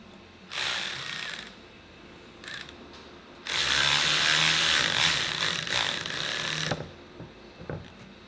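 Small 8mm wrench ratcheting to snug a lock nut on a Can-Am primary clutch, a short burst of clicking, a brief tick, then a longer steady run of fast ratchet clicks, close up with no talk.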